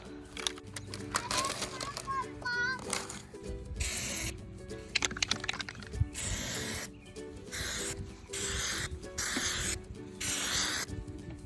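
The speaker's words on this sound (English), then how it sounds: "Here's the spray paint that we're gonna use." Black satin spray paint hisses onto a side table in a series of short, close bursts separated by brief pauses, with a voice talking early on.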